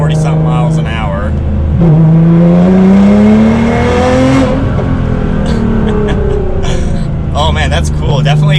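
A Nissan GT-R with an anti-lag tune makes a rolling launch in third gear from around 40 mph, its engine revving hard with rising pitch and loud crackles. People talk over the car.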